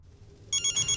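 A telephone rings for an incoming call from an unknown number. Faint room sound comes first, then the ring cuts in loud and close as rapid repeated electronic bursts.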